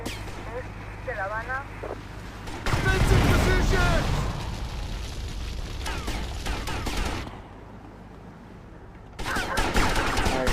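A minigun opens fire in GTA Vice City in sustained bursts of rapid gunfire with booming impacts, stopping briefly and then resuming, mixed with game sounds and someone talking over it.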